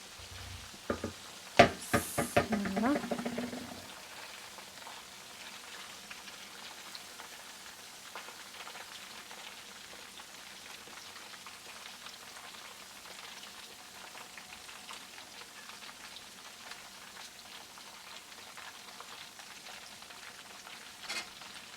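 Chicken 65 pieces frying in hot oil give a steady, soft sizzle. A few sharp clatters and pops near the start settle into a continuous low crackle.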